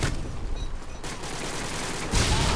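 Continuous gunfire from Modern Warfare 2, with dense overlapping shots and blasts forming a loud, unbroken wall of noise that swells again near the end.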